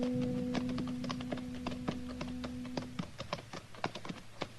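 Horses' hooves clip-clop along a street in a radio drama, a steady, quick clatter of close hoofbeats over a low background hum.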